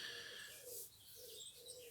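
Birds call in the morning outdoors, with soft cooing like a dove or pigeon and faint chirps over a gentle, quiet background hiss.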